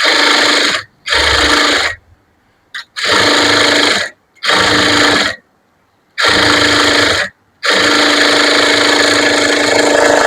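A sewing machine stitches a blouse lining in bursts, each run of rapid mechanical chatter lasting about a second or more and separated by brief pauses, loud and close with no talk.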